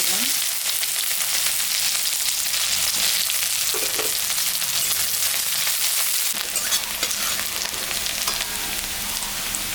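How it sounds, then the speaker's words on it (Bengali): Onion frying in hot mustard oil with dried chilli and kalonji gives a loud, dense, crackling sizzle that runs unbroken and close throughout, with no talking. "পেঁয়াজটা ভাজা ভাজা হয়ে গেছে"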